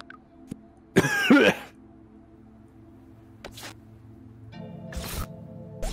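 A person coughs in a brief, harsh burst up close, followed by smaller rustles and throat sounds in an otherwise quiet room.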